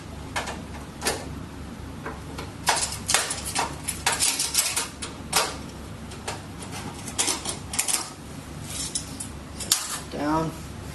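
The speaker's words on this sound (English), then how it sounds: "Now taking off the last screw." T25 screws being removed from a part, a close run of small metallic clicks, ratcheting ticks and rattles in uneven bursts over a low background hum.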